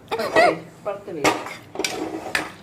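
Spoon clatters against a pan while mushrooms are tossed with chilli powder and spices, a few sharp scraping clinks in quick bursts, close and fairly loud, with voices or vocal sounds in between.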